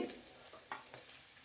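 Onions for mutton pepper dry fry and get stirred in hot oil, a quiet sizzle with a few soft scraping stirs, faint and brief with no talking.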